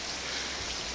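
Steady outdoor rain at a damp dawn, a dense, even hiss of falling drops filling the whole second with no breaks.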